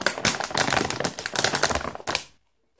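A Herr's baby back rib potato chip bag crinkles loudly and busily for about two seconds, close by, then falls silent.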